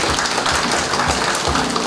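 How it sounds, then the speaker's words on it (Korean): Audience applause at a Korean poetry award ceremony, a steady dense wash of many hands clapping at a constant level throughout, loud and close. "박수 부탁드립니다."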